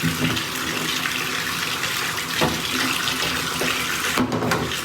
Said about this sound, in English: Water's starting to fill up.